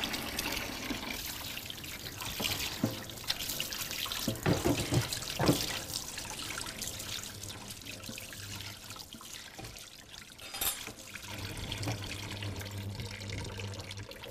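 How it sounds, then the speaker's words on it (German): Hands are washed under a running tap of very hot water in a butcher's shop kitchen, a steady splashing stream with bursts of louder sloshing and brief pauses, close by. "Ich darf mal gerade die Hände kurz waschen."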